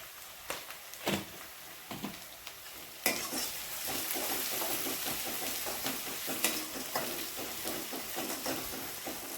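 Sliced onions sauté with powdered salt in a pan while idli upma is being made. A few scattered clinks and stirring taps come first, then a steady sizzling fry takes over, broken by repeated utensil scrapes and stirs.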